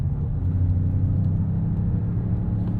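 A 2026 Jeep Grand Cherokee with the Hurricane turbocharged four-cylinder engine cruising, heard from inside as a steady low drone and rumble with road whir, even and unchanging throughout.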